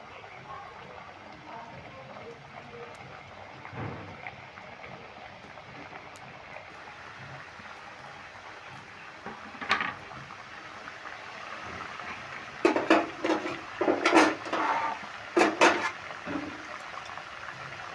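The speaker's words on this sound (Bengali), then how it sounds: "এবার মিডিয়াম আঁচ করে দিয়ে আস্তে আস্তে আমি এই বিস্কুটগুলো ছেড়ে দিচ্ছি" Jeera biscuits slide into hot oil in a kadai over medium heat. A quiet bubbling runs throughout and builds into louder, fizzing bursts toward the end.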